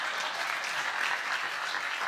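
Applause from a comedy show audience fills the whole moment, a steady, dense wash of many hands clapping at close range with no voices on top.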